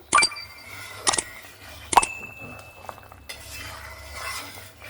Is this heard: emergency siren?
no